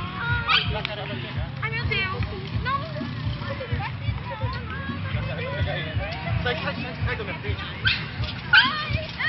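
A dog yelps and whimpers while an alligator attacks it at Lagoa Maior. The high cries repeat through the whole stretch amid crowd babble and anxious shouting from onlookers.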